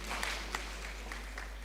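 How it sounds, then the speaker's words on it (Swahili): A congregation at a Kikuyu church service applauds for their chairman, scattered, fairly quiet clapping with a few sharper individual claps over a low steady hum. "Wapi makofi yetu ya chairman wetu?"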